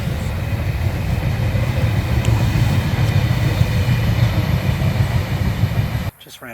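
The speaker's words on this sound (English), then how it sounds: "Man, you get a train about every 5 minutes." A train passes along a suburban railway, a loud, continuous rumble with faint clickety-clack that holds for about six seconds before cutting off abruptly.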